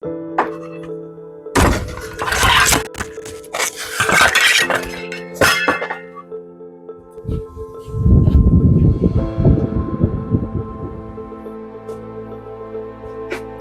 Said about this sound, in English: That was the sound of one being dropped.